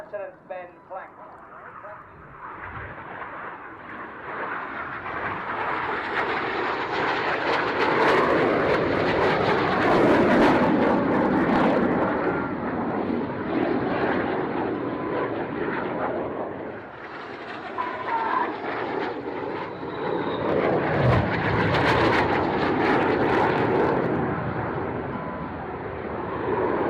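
Red Arrows jet, Red 8, making a smoke-on display pass at an air show, a sustained loud jet roar that builds, dips and surges again over nearly half a minute, with an announcer's voice over it.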